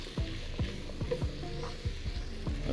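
Pumpkin and other vegetables frying in curry for a coconut ramen soup, stirred steadily in the pan, with a continuous sizzle broken by regular scraping strokes roughly every half second, close and moderately loud.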